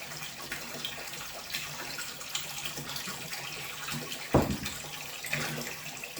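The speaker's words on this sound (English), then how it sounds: "look at the flow of the water right there" A VEVOR 660GPH five-stage canister aquarium filter runs on test before installation, giving a steady close wash of flowing water with a brief louder splash near the end, and no talking.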